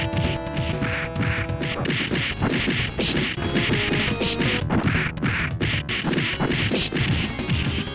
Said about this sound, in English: its hook is the extremely satisfying sound of punching the shit out of some random flunky